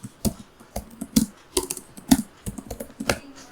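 Python code being typed on a computer keyboard, producing steady, rapid, close-up key clicks and taps without any speech.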